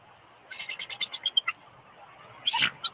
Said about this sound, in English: it's a shift change of a bald eagle pair take turns tending to their eggs at Big Bear Lake in South California